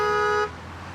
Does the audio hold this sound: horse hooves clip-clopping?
no